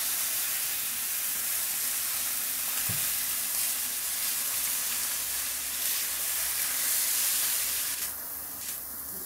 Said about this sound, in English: So you just want to let it fry on one side, then you flip the side.